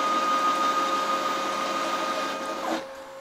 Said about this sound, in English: that's about the limit of my machine, and that's while we're cutting two tiles